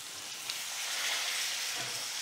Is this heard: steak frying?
yes